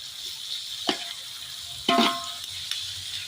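Tomatoes tossed into a hot pan of frying soybean fried rice, a steady hiss of sizzling oil with a few sharp splattering bursts as the pieces land and are stirred, close and without talk.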